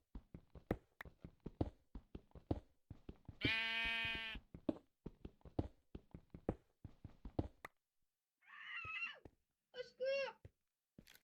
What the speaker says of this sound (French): Il y avait le mouton maléfique